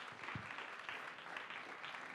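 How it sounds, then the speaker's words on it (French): Audience applause at a French talk on cool roofs, a soft, steady patter of many hands clapping, fairly distant and quiet throughout. "On peut l'applaudir."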